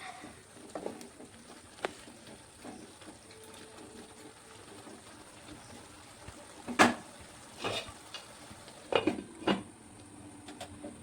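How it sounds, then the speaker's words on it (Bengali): Spice paste being sautéed in a pan, with sparse metallic scrapes and clinks of a spoon against the pan over a faint steady hiss, a few louder stirring clatters near the end. "এইভাবে আমি মশলাটা দিয়ে বেশ কিছুক্ষণ আর একটু কষিয়ে নেব"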